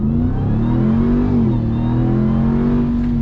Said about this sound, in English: Tons of fun, crazy fast accelerating truck